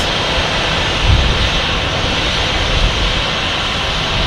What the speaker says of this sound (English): American's engines are very loud because they're parked right next to us.